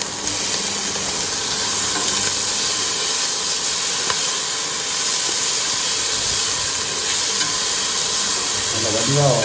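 Onions, tomatoes and ginger-garlic paste frying for a Jaffna crab curry give a loud, continuous hissing sizzle in the pan, steady and close throughout with faint crackles.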